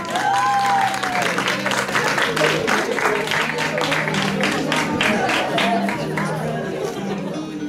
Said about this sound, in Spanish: Un aplauso fuerte para Sergio.